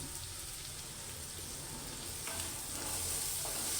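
Chopped onion and corn kernels sauté in a pan for a traditional taro-leaf curry, a continuous soft sizzle and crackle that grows a little brighter toward the end, heard alone.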